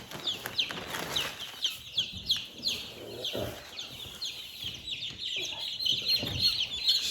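Three-week-old young chickens in a brooder lined with wood shavings give repeated soft clucks and chirps through a busy, steady background of peeping from the flock.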